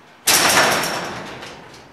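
A garage door with its opener's manual release pulled, rolling open with a sudden rattling rush that starts loud and slowly fades as the panels slide along the track.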